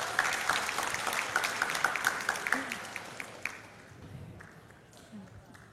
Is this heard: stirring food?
no